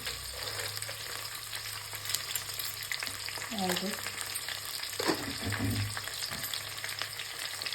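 Food frying in a pan with salt added, a constant close sizzle broken by scraping, clattering stirs of a utensil against the pan, with no voices.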